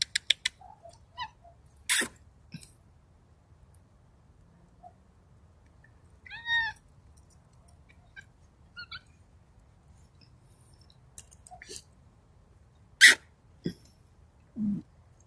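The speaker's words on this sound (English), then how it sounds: "It's feral cat season around here." A feral cat meows outdoors in several short, separate cries spread across a quiet stretch, some near and sharp, others fainter, with small scattered background noises between them.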